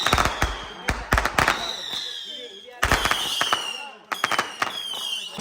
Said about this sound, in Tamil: அந்த பட்டாசு வெடி குட்டி பட்டாசு பாக்ஸ் குட்டி பட்டாசு